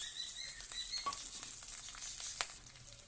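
Green chillies hit hot oil already frying garlic and nigella seeds in a kadai, producing a continuous close sizzle with scattered pops and a sharp spatter near the end.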